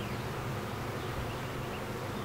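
A swarm of honeybees being collected into a top bar hive fills the air with a dense, continuous buzzing drone, close and steady, with no voices.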